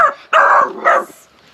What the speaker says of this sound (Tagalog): Aso nyo yan?